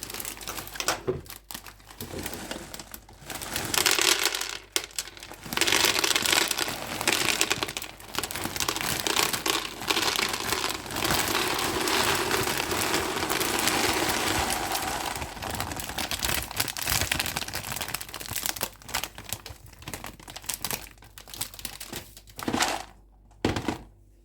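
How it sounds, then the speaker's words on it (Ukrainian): Small chocolate balls rattle and clatter into a plastic organizer container in bursts, with crinkling packaging between pours, close up and fairly loud. "І зараз ми будемо пересипати тут ось такі шоколадні кульки."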